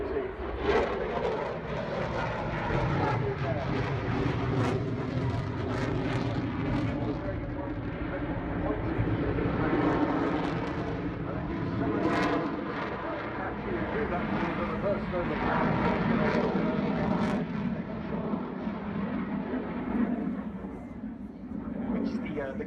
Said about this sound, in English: Autopilot's signature manoeuvre, the pirouette, which showcases the Hornet's lethal and agile nose capability as he comes round